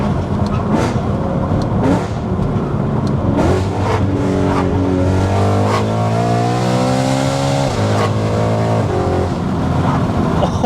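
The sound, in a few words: BMW E92 M3 custom exhaust revving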